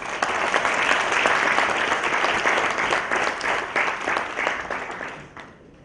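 Sustained audience applause fills a hall at an international students' graduation ceremony at Annamalai University, steady dense clapping that thins slightly toward the end.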